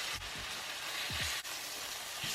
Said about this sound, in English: Add a generous amount of oil and add in your chicken thighs skin side down.